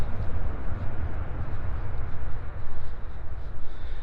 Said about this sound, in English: That noise you hear, that's a C-17 taking off.